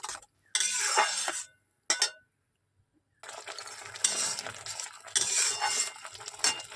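Spice paste for katla fish is stirred and fried in a pan, with scraping bursts of a utensil against the metal and sizzling, broken by short pauses of silence.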